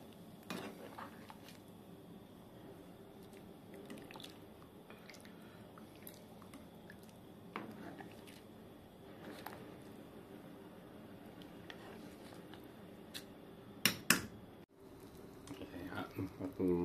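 Five spice chicken sauce is stirred in a pot with ketchup, soft wet squelches and faint spoon clinks against metal recurring under quiet speech, with a louder clatter near the end.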